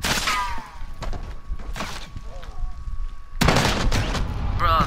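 Gunfire sprays in Call of Duty Modern Warfare, with scattered shots and then a loud, sustained burst near the end, while a voice talks over the action.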